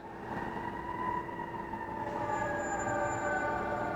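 A fire engine siren wails steadily in the distance, a sustained rising tone that slowly grows louder, with no talking over it.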